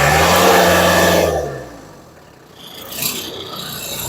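Engine of a Kubota Saturn X-20 mini tractor, loud at first, then dropping off and picking up again, with a rough mid-pitched drone throughout and no talking.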